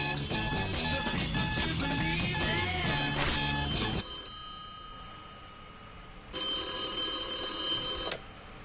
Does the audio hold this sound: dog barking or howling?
no